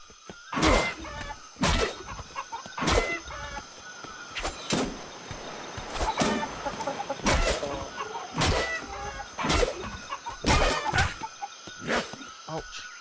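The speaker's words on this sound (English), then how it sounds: "It's an alpha chicken." An alpha chicken in the video game Atlas gives a run of about ten loud, sharp clucking bursts at a fairly regular rhythm, close and prominent over a faint background hum.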